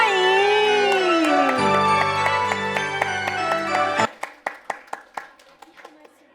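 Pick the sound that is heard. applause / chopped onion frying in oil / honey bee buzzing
applause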